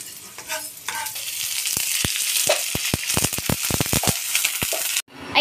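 Ground meat sizzling with onion and garlic in a hot pan, a steady frying hiss with sharp crackles and pops scattered throughout, close and fairly loud, ending abruptly with a brief silence.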